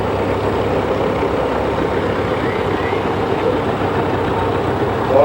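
A 1936 Oliver 70 vintage tractor runs steadily at a threshermen's show, its engine a continuous, even drone close by, with a slight swell at the very end.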